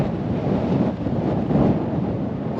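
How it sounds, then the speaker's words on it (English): Steady, gusting wind in Toulouse buffets the microphone with a low, continuous rumble that swells slightly midway, with no voices. "it is a little windy"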